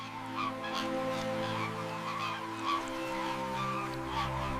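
Snow geese grazing in a dense flock honk in a continuous overlapping chorus, a steady mass of calls heard from a moderate distance.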